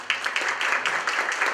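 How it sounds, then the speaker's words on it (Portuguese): Applause from a seminar audience greeting a deputy: a short, steady burst of many hands clapping at moderate loudness, with no voices over it. "Eu queria que vocês dessem uma salva de palmas para ele."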